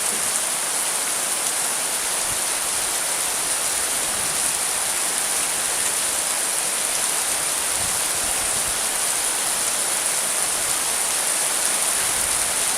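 Heavy rainstorm pouring down in a steady, dense roar of hissing rainfall that stays constant and loud throughout, with no pauses and no voices.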